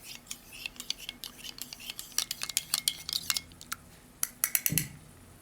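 A metal MRE spoon stirs a drink mix from a Swedish 24-hour combat ration, giving a run of quick clinks and scrapes against the container, close by and fairly quiet, with no talk.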